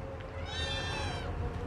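A young Himalayan kitten, about two and a half months old, gives a single drawn-out meow, fairly faint against a low background rumble of a room.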